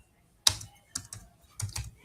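A few sharp, close keystrokes on a computer keyboard as a git command is typed, sparse separated clicks with short bursts of two or three strokes against near silence.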